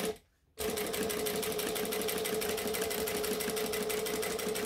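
A sewing machine stitches fabric in a rapid, even rhythmic chatter close to the microphone, starting after a brief silence and running steadily without talk.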